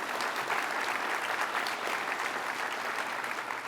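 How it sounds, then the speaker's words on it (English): Sustained audience applause at a university event fills the space, a dense, steady clapping from a sizable crowd with no speech over it. "How about a round of applause for them?"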